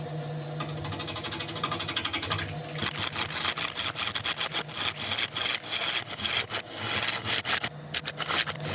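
A woodturning tool cuts a very heavy piece of wood on a lathe, making a rhythmic rasping, scraping sound that pulses with each rotation, close and steady.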